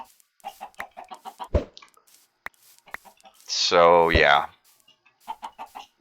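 Chickens clucking in the Minecraft video game, a short burst of loud clucks in the middle, with someone talking before and after.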